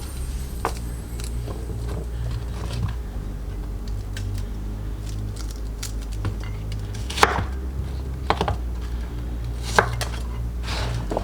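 A knife cuts cauliflower florets into small pieces on a board in a kitchen with irregular, close, crisp chopping taps. A steady low background hum runs underneath.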